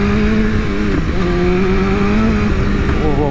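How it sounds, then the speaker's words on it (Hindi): BMW S1000RR sportbike ridden hard on a small race track, its engine note loud and steady with a brief dip in pitch as the rear tyre breaks loose, no talk over it. "हो पीछे से टायर स्किड हुई।"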